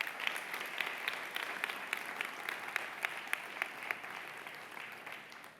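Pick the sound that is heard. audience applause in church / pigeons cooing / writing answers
audience applause in church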